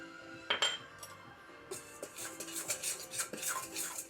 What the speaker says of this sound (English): First, you want to mix together all your dry ingredients, which is flour, baking soda, and salt.